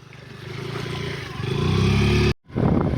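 A scooter's small engine revs strongly as it sits stuck in riverbed silt, a close, droning whine that climbs in intensity before a sudden momentary cut, then resumes.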